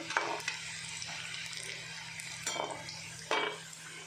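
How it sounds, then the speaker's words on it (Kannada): Kadubu dumplings fry in hot oil at an outdoor farm festival, a soft continuous sizzle with occasional clinks of a utensil against the pan, faint and close. "ನೋಡ್ರಿ ಈ ಥರ ಕಡುಬು ಕರಿಲಿಕ್ಕತ್ತದ ನೋಡ್ರಿ"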